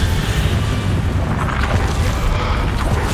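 Spell explosions from Confringo and Bombarda in Hogwarts Legacy boom as a continuous loud rumbling blast, with dense low roaring and no clear gaps.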